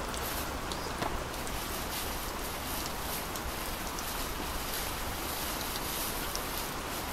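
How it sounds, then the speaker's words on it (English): Steady rain hisses evenly throughout, a dense broadband wash with occasional louder drops and no speech. "It would be raining."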